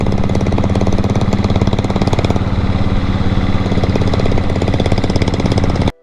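A modified diesel Bullet motorcycle engine runs close by with a loud, rapid, knocking thump that stays steady and unbroken for several seconds before cutting off abruptly at the end.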